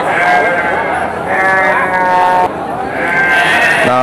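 Female Garut sheep at a sheep market bleat loudly and close, in several long, wavering calls that overlap with someone speaking.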